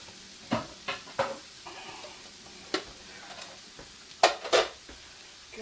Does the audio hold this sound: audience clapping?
no